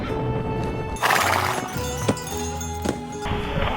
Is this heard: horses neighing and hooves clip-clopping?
yes